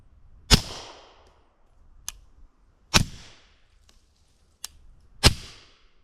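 .45 handgun fired through a Rugged Obsidian 45 suppressor: three muffled, evenly spaced shots, each a sharp pop with a short decaying tail, with fainter clicks of the action between them and no talk.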